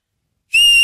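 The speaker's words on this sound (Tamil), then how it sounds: "ஒரு தடவை விசில் அடிச்சு காமி பாப்போமா" After half a second of silence, a person whistles a single clear, sustained high note that holds steadily and loudly to the end, with no talk over it.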